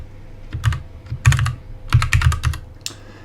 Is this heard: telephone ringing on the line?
no